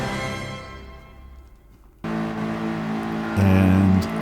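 A BMW M3 race car in Gran Turismo 7 at the race start on Trial Mountain, engine note dipping quietly, then jumping in loudly and building to a sharp, strained rev with other cars droning around it.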